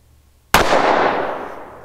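A single sharp handgun shot cracks out loud and close after a moment of quiet, then rings off in a fading echo.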